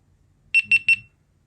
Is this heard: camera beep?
yes